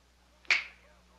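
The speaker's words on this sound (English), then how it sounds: "Go ahead, snap your fingers." A single crisp finger snap, close and isolated, with a short ringing decay against near silence.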